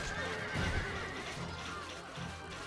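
A horse neighs in the medieval strategy game Stronghold: Crusader, a loud whinny rising over the busy game soundscape, with faint hoof clip-clop and no talk.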